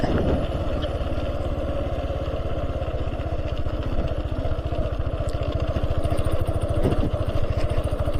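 A motorcycle engine thrums steadily with a fast, even putter throughout, fairly close and continuous, with no talking.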